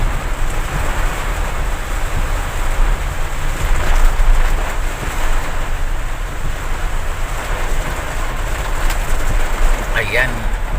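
Heavy rain roars in a dense, steady hiss along a flooded road, loud and unbroken, with a brief bird call near the end and speech present.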